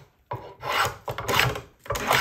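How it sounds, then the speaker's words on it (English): A spokeshave takes long shaving strokes along an octagonal wooden facet, giving three rasping passes separated by brief pauses, close and clear with no talk. "I can just skew the spokeshave and take nice long"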